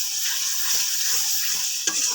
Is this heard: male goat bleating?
no